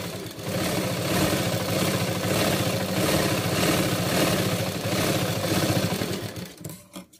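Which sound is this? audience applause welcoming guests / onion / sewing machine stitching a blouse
sewing machine stitching a blouse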